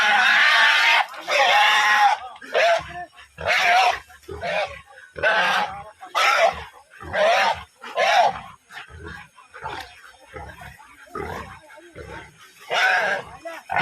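Wild boars squealing during a cull at Vallappuzha, Pattambi: a rapid series of loud, shrill, close squeals and screams, a dozen or more sharp bursts broken by brief gaps.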